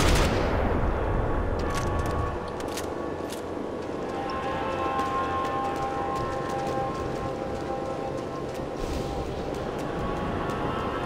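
Gunfire in the video game Max Payne 3, a dense, loud barrage of crackling shots that opens hard and settles into steady rattling fire with scattered sharper reports.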